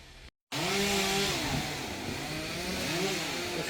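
A two-stroke engine runs loud and close after a brief silent gap, its buzzing pitch rising and falling in revving sweeps without a pause.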